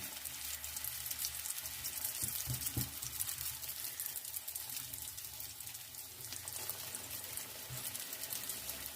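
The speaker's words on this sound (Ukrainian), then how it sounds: "І так будемо смажити всі пиріжечки" Cabbage-filled pirozhki fry in hot oil in a pan, giving off a steady, faint sizzle that carries on without a break. A couple of soft knocks from handling can be heard, and no one speaks.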